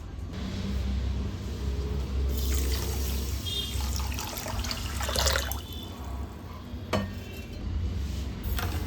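Water poured into sugar in a pan to make a thin syrup for a soft, juicy rava sweet: a steady near trickle and splash with light utensil clinks, no talk.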